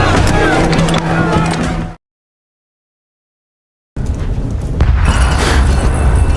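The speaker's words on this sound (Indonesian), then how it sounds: "ledakan yang terjadi dari arah kidul" Loud booming blasts roar through a heavy, rumbling wash of noise, broken by a couple of seconds of complete silence before the rumble returns.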